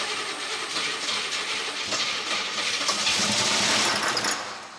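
An abandoned Camaro IROC Z, started after sitting 27 years, runs rough with a suspected rod knock: a loud, ragged, mechanical clatter that rises and holds for a few seconds before fading, with no voices.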